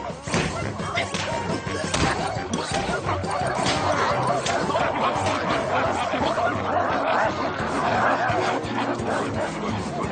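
In a cartoon, a dog keeps up a busy, continuous stream of barks and yips, interspersed with laugh-like sounds, at moderate loudness with a fairly steady, cluttered texture.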